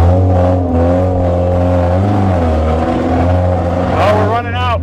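A stock Mazda Miata engine running on denatured alcohol revs steadily and loudly near by, its tone shifting a little as the throttle changes, while someone talks over it.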